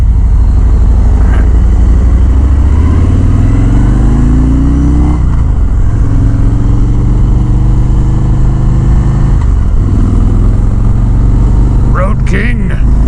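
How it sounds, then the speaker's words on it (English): A 2019 Harley-Davidson Road King Special motorcycle rides along with a steady low engine drone, its pitch rising and falling through gear changes, loud and close with heavy wind rush and no speech. "Road King! That's the sound of freedom!"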